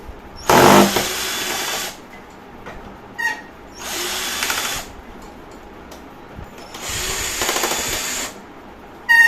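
Cordless drill backing out screws, three separate bursts of loud whirring a second or so long, with short clicks and handling noise in the pauses and no talk.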